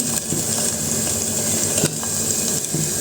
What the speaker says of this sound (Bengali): খুব কড়া করে ভাজবো না হালকা হালকা ভাজবো